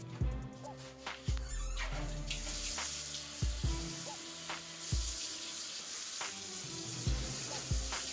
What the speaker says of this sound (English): Now let's go ahead and get the water started.